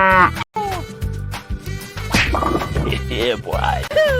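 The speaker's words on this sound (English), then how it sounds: "Cow." A cartoon cow moos in a drawn-out, wavering call, loud and close, mixed with other cartoonish animal cries and bleat-like sounds in quick succession.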